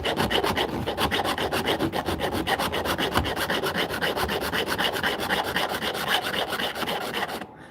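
A file rasps rhythmically across a saw tooth to sharpen it, with quick, even back-and-forth strokes repeating close up and fairly loud, no talking, until the strokes stop at the end.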